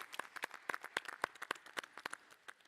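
Sparse clapping from a small audience thanking conference panelists in a plenary hall, individual claps distinct and uneven, moderately quiet with no talk.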